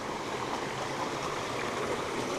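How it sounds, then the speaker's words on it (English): A small outdoor waterfall flows with a steady, close rush of splashing water, continuous and even throughout. "Little mini waterfall."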